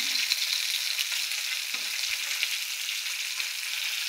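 Tilapia fish pieces frying in oil in a pan, giving a steady, dense, even sizzle that holds throughout, with a few soft low knocks but no talking.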